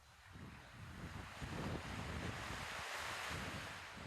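Ocean surf breaking on the shore at Anambó, on the north coast of São Tomé, a steady roar of rolling waves that swells and recedes, mixed with gusts of wind buffeting the microphone.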